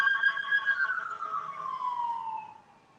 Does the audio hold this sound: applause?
no